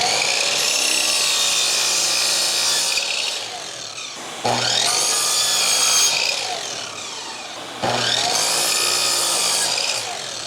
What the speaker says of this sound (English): So first step is cutting these to length because these are 6 feet long